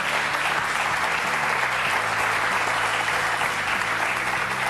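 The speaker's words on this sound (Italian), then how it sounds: "facciamo un bel applauso per Paolo Monelli." Steady, dense studio audience applause on an Italian football TV show, many hands clapping continuously at an even level with music or a tonal backing underneath.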